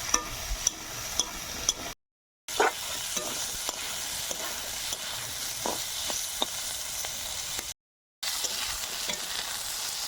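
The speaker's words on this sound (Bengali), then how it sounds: "আলুটা লাল লাল করে ভেজে নিয়েছি" Potatoes frying in hot oil with radhuni, garlic and slit green chillies: a steady close sizzle with light stirring clicks, broken by two short silent gaps.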